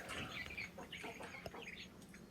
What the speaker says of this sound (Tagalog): hindi daw magkasundo yung pato at saka yung manok lagi daw nag-aaway